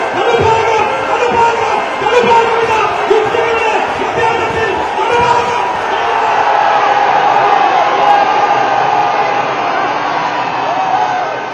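A huge crowd roars and cheers at the finish of the Nehru Trophy snake boat race in Kerala, a loud, sustained wall of shouting and whooping with voices mixed throughout.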